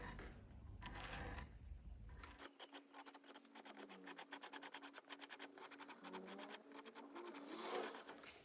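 A hand scraper carves the wooden neck of a true temperament guitar with quick, rhythmic rasping strokes, close and steady, each pass a short dry scrape repeating in a fast even pattern.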